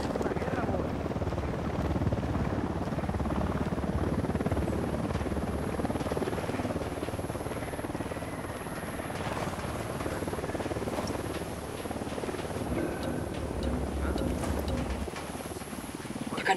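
A helicopter flying overhead in the video game Ghost Recon Wildlands, a steady rotor drone and whine filling the whole stretch, with game effects and faint voices underneath.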